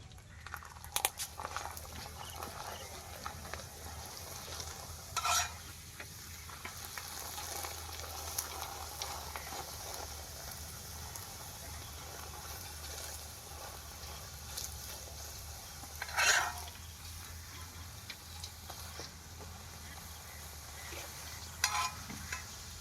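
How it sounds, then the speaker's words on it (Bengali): Parathas fry in a pan with a soft, steady sizzle, broken now and then by brief scraping and flipping sounds. "এবার একে একে পরোটাগুলো ভেজে নেবো"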